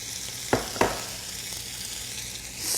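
Onions, carrots and celery mirepoix frying in a pan for a Yankee pot roast, a steady broad sizzle with two sharp clacks near the start and a brief rise at the end, no talking.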